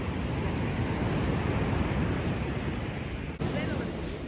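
Surf washes steadily onto Kollam beach at dawn, a continuous broadband roar of breaking waves close by with wind buffeting the microphone throughout.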